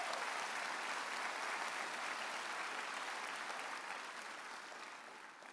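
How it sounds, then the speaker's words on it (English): An audience at a spring commencement ceremony gives honoured members sustained applause, a dense wash of clapping that holds steady and then slowly tapers off, heard from a distance. "Could we have a round of applause for our members?"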